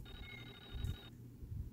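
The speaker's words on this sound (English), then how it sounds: "I don't know if that's a phone" A telephone rings inside a clock tower horror video game, a single steady electronic ring lasting about a second, fairly faint against low background rumble.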